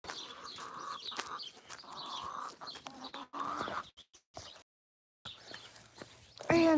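Chickens cluck and murmur close by in a farmyard, short irregular bursts with gaps and brief pauses, ending in a louder squawk, with no talking over them.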